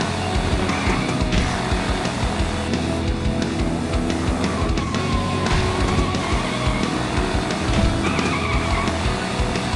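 A Hot Wheels arcade racing game roars with continuous loud race-car engine and tire-squeal effects as a toy car is launched down the track, steady and dense throughout.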